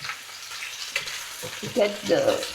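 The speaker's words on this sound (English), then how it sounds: "scallion and ginger in the oil." Scallion and ginger fry in hot oil alongside salmon, giving a steady close sizzle with brief stirring scrapes and a few louder spatters toward the end.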